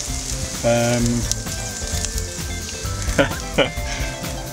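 Eggs sizzling as an omelette on a pot lid, a steady crackling fry with faint clinks and scraping of a utensil, close up.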